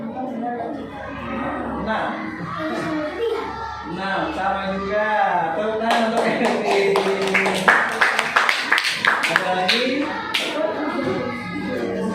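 Children and a teacher talk in a classroom, then a burst of group hand clapping breaks out about halfway through and keeps going as sharp, uneven claps under continuing chatter.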